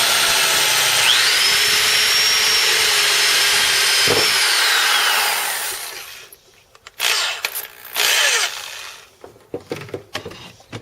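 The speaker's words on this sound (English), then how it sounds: "we're going to take a 1/2 inch drill bit and we're going to drill a hole in the chair stop" A power drill with a 1/2 inch bit boring a hole in a chair stop, whining steadily and loud for several seconds, then stopping, followed by intermittent knocks and short bursts of handling noise.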